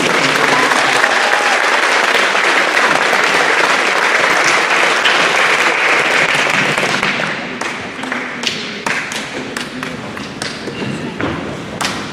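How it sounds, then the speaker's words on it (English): An audience at a middle school awards ceremony applauds, a thick and loud roll of clapping that holds for several seconds, then thins into scattered claps and a few thumps. "a round of applause for Mrs. Mayer for taking it"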